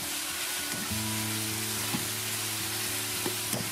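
Lamb pieces and shredded onion stir-fry in hot oil, giving a steady, close sizzle with a low hum beneath and a few soft clinks of the utensil against the pan.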